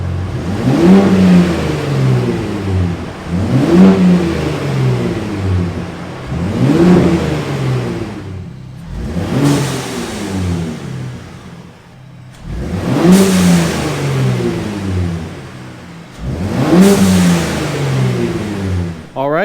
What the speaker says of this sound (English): allow the factory blow-off valve on the Raptors to vent to atmosphere to get that whoosh noise